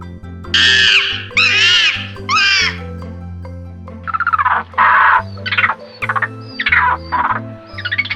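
Monkeys give a rapid run of loud, whooping cries, several in short succession, over a steady bed of background music.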